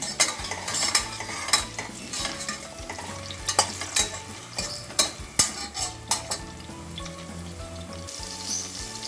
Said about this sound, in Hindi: अब इसमें लहसुन डालेंगे। और इसे थोड़ी देर भूनेंगे।